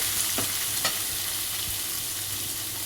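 Fresh curry leaves sizzling in a pan for ghee upma, an even, moderately loud hiss with a couple of light stirring taps near the start.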